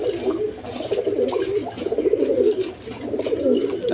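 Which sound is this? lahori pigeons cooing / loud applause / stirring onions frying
lahori pigeons cooing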